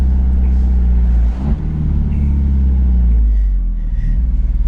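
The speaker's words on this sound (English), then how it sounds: "that exhaust is just looking so good, and it sounds super loud" An Alfa Romeo car driving with a loud exhaust, a deep steady rumbling drone heard close up, with a short dip as the engine note shifts partway through.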